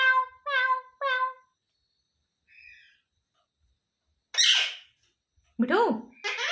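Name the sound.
parrot imitating a cat's meow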